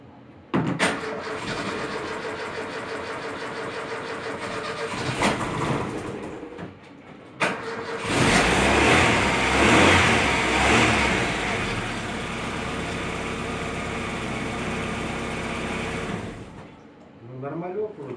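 Freshly rebuilt car engine after a full overhaul cranks briefly, then catches and runs, rising into loud sustained revving before settling back down. Voices are heard over it.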